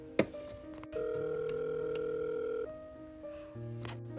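A telephone call is placed in a Littlest Pet Shop horror story: a click, then a steady dial tone, a short sequence of tones, and the start of ringing, heard alone and moderately loud.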